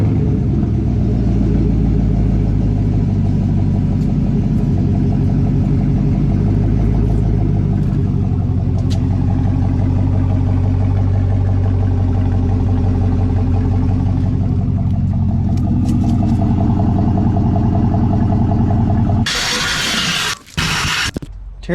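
Car engine idling and rumbling with its exhaust tip cut off, a steady close low drone that holds for about twenty seconds before a burst of louder broadband noise near the end.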